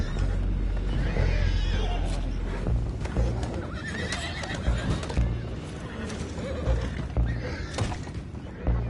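Horses whinny and hooves clop in Red Dead Redemption 2, a nearby neigh rising over a steady rumble of game ambience and shuffling movement, with scattered thumps throughout.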